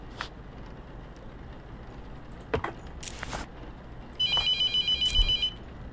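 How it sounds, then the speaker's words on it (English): A telephone rings in the horror video game The Mortuary Assistant. The bright electronic ring pulses rapidly in a burst of about a second and a half near the end, heard over a low ambient hum with a few faint knocks earlier. "I ain't answering that phone, bro."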